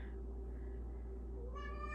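House cat meowing once near the end, a short rising call over a low steady hum in a quiet room.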